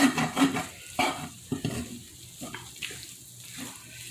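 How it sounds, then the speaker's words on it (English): A whisk scraping and stirring sausage gravy in a pan, with irregular close clinks and sloshing strokes over a soft bubbling, simmering background. "I love to use a whisk because it does ensure that you get a nice creamy gravy going."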